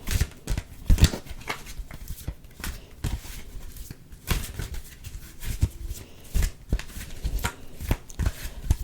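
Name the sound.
shuffling tarot cards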